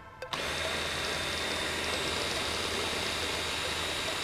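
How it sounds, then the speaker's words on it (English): A power drill whirs up and runs steadily at high speed spinning a speedometer gauge from a 1989 Lotus Esprit, a continuous loud mechanical whine with no pauses. "Maybe I should put a drill or something on it"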